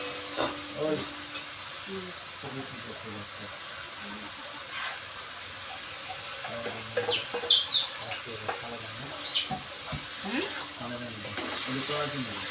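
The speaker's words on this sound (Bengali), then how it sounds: "ভাজা ভাজা করে মাংসটা রান্না করছি" Meat frying and being stirred in a pan gives a soft, continuous sizzle and hiss with scattered scraping stirs, fairly faint, while people talk intermittently nearby.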